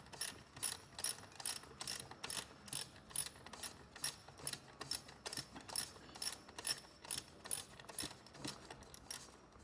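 A ratchet wrench removes a shifter bolt on an MT-82 manual transmission from a 2011-2014 Mustang, clicking in quick, rhythmic bursts of pawl ticks, close and loud, with no talking.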